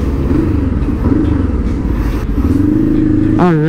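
Motorcycle engine running and revving on a road ride, a close rumbling drone with shifting pitch and a rising rev near the end, with some wind and clatter.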